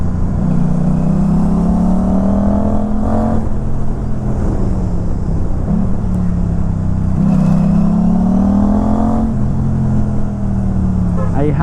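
A motorcycle fitted with a GPR Ghost full-system exhaust, dB killer installed, rumbles steadily through its note with rising and falling revs, continuous and fairly close, with a voice talking over parts of it.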